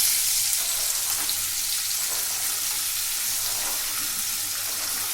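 Chopped broad bean pieces drop into hot oil with turmeric and sizzle steadily, a dense, continuous frying hiss that stays even and close throughout, with no talking.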